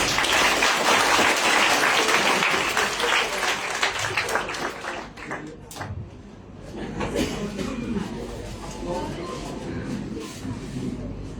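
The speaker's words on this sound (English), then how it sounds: "So we may give him a Round of applause" An event audience in Chattogram applauds the city's mayor, a dense wash of clapping that starts strong and thins out over several seconds into scattered claps and murmuring.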